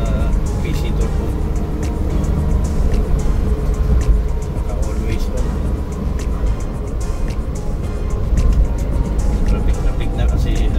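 Suzuki DA64W van with a PZ Turbo engine, automatic, driving through rush-hour traffic: a steady low engine and road rumble runs throughout, with voices talking over it.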